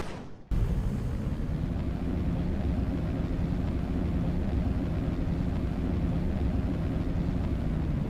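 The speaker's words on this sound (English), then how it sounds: "The booster is performing the landing burn." Rocket booster engines fire in a landing burn during the Eternity One Flight Two mission, a loud, steady, broadband roar that kicks in abruptly after a brief quieter moment and holds without a break.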